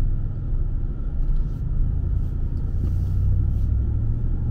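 A car drives through a quiet residential neighborhood in Palm Coast, Florida, heard from inside as a steady low engine and road rumble that stays even and close throughout.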